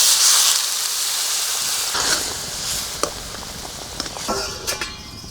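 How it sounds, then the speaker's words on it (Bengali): Water poured into frying potato curry sets off a loud, steady steaming hiss that holds throughout, with a few small pops and crackles near the end. "এখন জল দেবো।"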